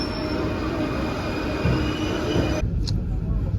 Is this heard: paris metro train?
yes